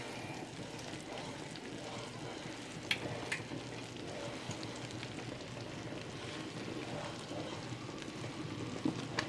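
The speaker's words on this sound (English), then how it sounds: "Don't stop stirring. Just keep stirring." Strawberry jam cooking in a pot gives a soft continuous bubbling sizzle, with spoon scrapes and taps against the pot now and then, steady and fairly faint throughout.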